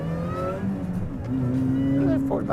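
Supercharged MINI set up for track use, its engine revving with a rising whine from the supercharger, heard close with brief overlapping speech.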